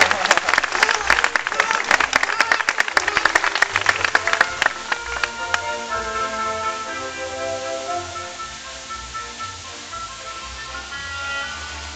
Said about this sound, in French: Quelques applaudissements pour Paco.